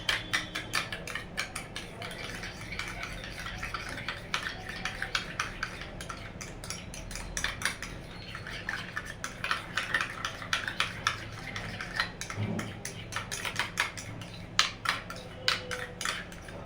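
Homemade bhel snack being mixed in a bowl, with a spoon clinking and scraping against the dish in irregular rapid taps and stirring rustles, close and fairly quiet, over a faint steady background.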